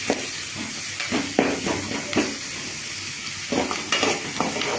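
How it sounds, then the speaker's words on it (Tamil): Chopped tomato and green chilli sautéing in a pan, close sizzling with repeated stirring scrapes and clinks in an uneven rhythm, no voices. "நல்லா வதக்கணும்."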